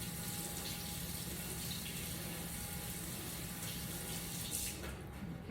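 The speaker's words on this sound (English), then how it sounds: "So let me just rinse off my fingers." Tap water runs steadily into a sink as fingers are rinsed in a home kitchen, a faint continuous hiss and splash lasting throughout without any voices.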